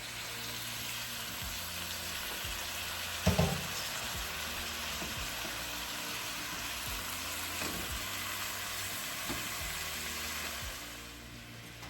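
Bacon grease sizzling in a pan, a steady, faint hiss throughout with a brief clatter early on, close and alone with no talk.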